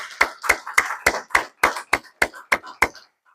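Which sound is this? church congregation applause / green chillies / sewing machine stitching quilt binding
church congregation applause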